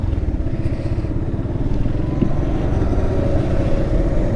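A motorcycle rides along with a loud, steady engine rumble and a rough, throbbing low tone, plus some clatter and wind noise, continuous from start to finish.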